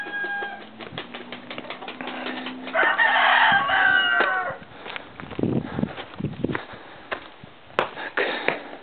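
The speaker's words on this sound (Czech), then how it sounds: "další kohout" A rooster crows near a rural home in Huasca, Mexico, its call rising loudly in the middle amid clucking, clattering and other farmyard sounds.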